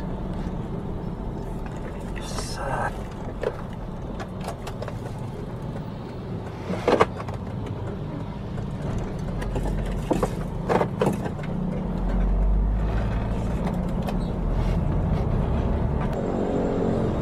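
A car's engine that keeps cutting out idles and sputters in a heavily jammed road, a steady low rumble with scattered clicks and knocks inside the cabin and a slight surge near the end.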